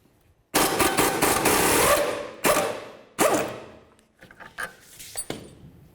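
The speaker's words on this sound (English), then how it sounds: "And now we're going to remove this bolt right here using a 21mm socket." A power tool spins a 21mm socket to break loose a rear suspension bolt on a 2008-12 Chevy Malibu during a rear shock replacement: a loud, sustained burst, then shorter sharp bursts and fainter rattles.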